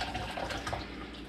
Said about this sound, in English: Now the soup is ready to be poured into its travel vesicle